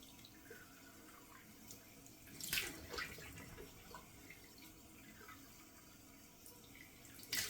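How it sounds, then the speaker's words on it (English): Cold water runs steadily from a tap into a sink, with faint splashing and a few louder bursts as the flow hits. There is no talking over it. "I'm turning cold water on."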